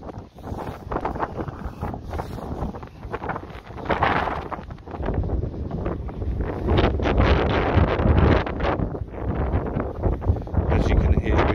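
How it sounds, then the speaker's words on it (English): Gusty wind buffets the microphone at a lakeside fishing spot on a chilly January day, a steady rough roar rising and falling throughout, with a voice faintly present underneath. "As you can hear, it's pretty windy here."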